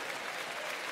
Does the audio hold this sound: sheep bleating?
no